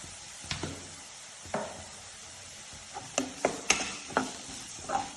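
Onions sizzle quietly in hot oil while a spoon scrapes and stirs the pan in scattered clicks and knocks, with no talking.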